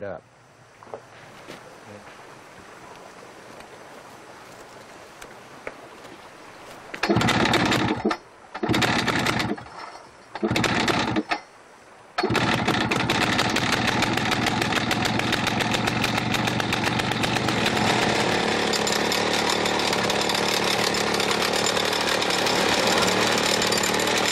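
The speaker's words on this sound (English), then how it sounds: "The team will break the block with a very dense diamond-tipped drill." A loud, harsh mechanical whine of a diamond-tipped drill grinding into a Guatemalan jade block, starting and stopping in short bursts before running steadily.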